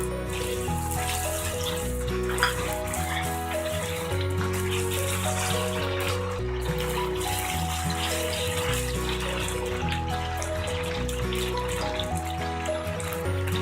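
Mixed vegetables for a spicy Indian mixed-veg sabji fry in a pan, giving a steady, close hiss of sizzling that runs unbroken throughout, with a tonal backing underneath.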